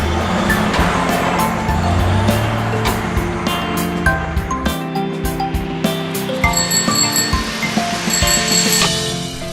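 Cartoon bicycle with a bright bell ringing in repeated quick trills over a busy musical backing, loud and close throughout.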